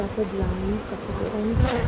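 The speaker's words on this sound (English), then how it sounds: "Alright, now they're getting angry. There's a bee in my hair." Agitated honey bees swarm around an opened beehive, making a close, continuous buzzing hum with wavering pitch that runs the whole time.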